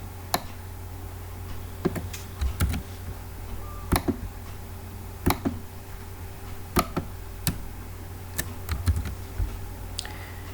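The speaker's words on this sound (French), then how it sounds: "Je clique sur Add." Computer mouse clicks come as sharp, isolated ticks at irregular intervals over a low steady hum, close and fairly quiet.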